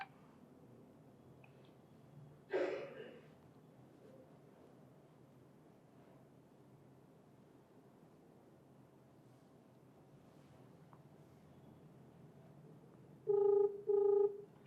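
An outgoing phone call rings back after a long stretch of quiet line noise and one brief rustle, with two short, clear tone bursts coming near the end.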